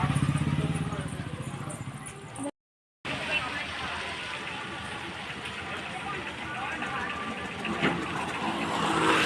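A motor vehicle approaches at a village goat-sacrifice festival in Koneripatti, with a steady mid-range engine rumble under people talking, a brief dropout, then the engine continuing close by.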